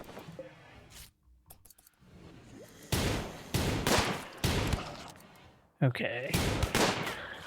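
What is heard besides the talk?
gunshots in the video game RimWorld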